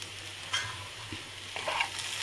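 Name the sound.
sweet corn frying and stirring in a pan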